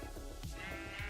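Sheep bleating in the Minecraft modpack GregTech New Horizons, several overlapping bleats over a dense, steady background of game sounds.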